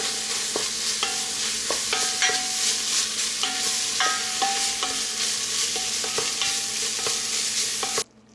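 Browned beef stirred back into a frying pan for eggplant lasagna sauce, with a steady sizzle and regular scraping knocks of the spoon against the pan, no voices, ending abruptly.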